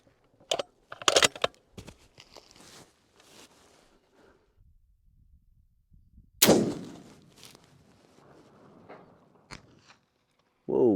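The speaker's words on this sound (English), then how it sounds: "Felt like a good shot." A single heavy long-range rifle shot from a .50 BMG or .338 Lapua rings out with a loud, sharp blast and a long rolling tail, preceded by a few smaller clicks and handling sounds.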